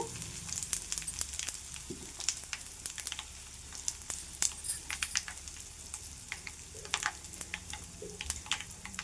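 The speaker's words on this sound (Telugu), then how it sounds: "చక్కగా ఇవి చిట్టపట్లాడుతున్నాయి కదా ఇవి ఫ్రై అయిపోయాయి" Seasoning splutters in hot oil with asafoetida for a raw tamarind and green chilli pickle chutney, giving sharp scattered pops and crackles over a soft sizzle.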